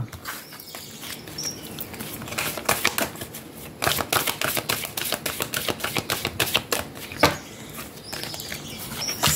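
A deck of oracle cards is cut and shuffled by hand, making a long run of close, rapid card flicks and riffles in busy bursts, with no talking.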